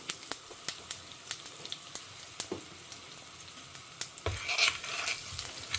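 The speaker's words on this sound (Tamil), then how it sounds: "கடுகு பொரிய ஆரம்பிச்சுடுத்து பருப்பெல்லாம் லேசாக செவக்க ஆரம்பிச்சிருக்கு" Mustard seeds, urad and chana dal and green chilli splutter in hot oil, sharp irregular pops and crackles over a low sizzle, close and fairly quiet, with a brief stirring scrape near the end.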